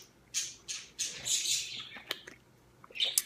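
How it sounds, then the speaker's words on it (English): Birds chirping outdoors in the morning, a series of bright squawks and short calls spread across a few seconds, fairly close and alone with no talk. "The birds, I know, they are awake this morning too."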